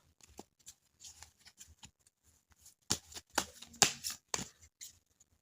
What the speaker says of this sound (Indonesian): Ini mau aku kocok dulu.